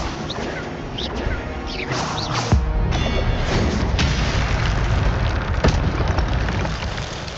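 Fiery spell blast cast in the Hogwarts Legacy video game, a dense roaring burst with crackling crashes and a sharp boom near the middle, loud and continuous throughout.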